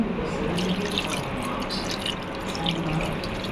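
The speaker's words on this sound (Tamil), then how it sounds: "ரெண்டாவது அளவு தண்ணியை நான் ஊற்றிட்டேன்" Water splashes and pours steadily into a bowl of black urad dal flour mix, a continuous wet trickling with small drips throughout, close by and fairly loud.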